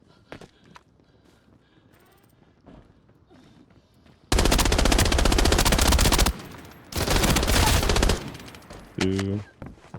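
Automatic gunfire in the shooter game Arena Breakout Infinite, with two long loud bursts of rapid shots after quiet footsteps and light movement, then a short tonal game sound at the end.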